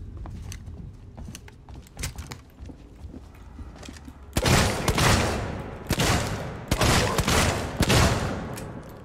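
Shotgun blasts ring out in the game Alien: Isolation, with several loud, sharp booms in the second half after quieter clicks and clatter. The shots come at irregular intervals and are heard alone, with no talking.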